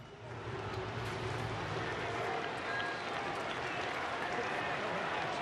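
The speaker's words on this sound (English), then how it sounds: "Crowd has filled in nicely." A baseball crowd fills Angel Stadium on a clear Southern California night, a dense continuous roar and murmur of many voices that stays level from start to end, with distant chatter blended in.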